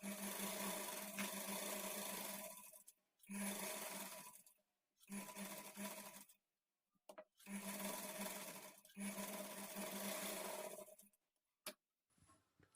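A sewing machine double-stitches blouse sleeves in several close, steady runs of rapid stitching, separated by short pauses as the fabric is turned.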